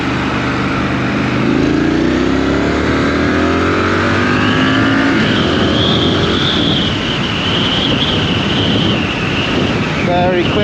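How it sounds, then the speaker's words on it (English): Triumph Scrambler motorcycle accelerating hard on a dual carriageway, its engine note climbing through the gears under heavy wind roar, loud and close throughout. "Very quickly to 70 miles an hour there, no problem at all."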